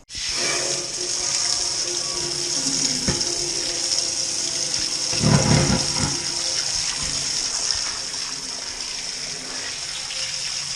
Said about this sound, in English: We're getting our kettle washed out here, ready for a brew day tomorrow.